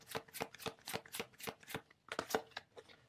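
A deck of tarot cards is shuffled quietly and close by, making a regular run of soft papery flicks and riffles with a short pause before a final few slaps, and no one speaks.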